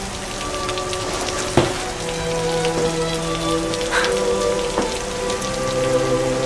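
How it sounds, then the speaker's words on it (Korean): Steady rain falls on surfaces with a dense, even patter and a few distinct drips and splashes standing out, moderately loud and without speech. "오늘 이렇게 비가 오는데"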